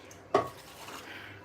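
A single sharp clank of a pot or utensil rings out while okra goes into a seafood pepper soup on the stove, then fades into a low simmering hiss.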